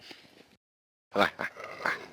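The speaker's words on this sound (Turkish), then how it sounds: "Burada bir sürü böyle köpek var." A street dog gives short, close growls and grumbles after a brief silence, a few rough bursts alone.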